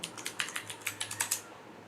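Fingers tapping a computer keyboard to log into a virtual machine, a quick irregular run of about a dozen sharp, close keystrokes with brief pauses, no voices.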